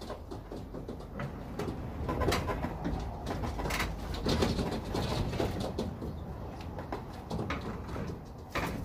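Pigeons cooing around a loft trap during trap training, soft murmuring coos under busy rustling, wing flutters and scattered knocks and clatters of the trap, moderately close, no talking.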